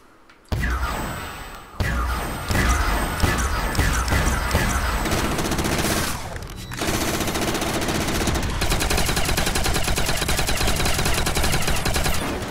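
Rapid automatic gunfire in a custom zombies video game as players shoot at a generator, loud dense bursts after a couple of single shots, continuing almost nonstop.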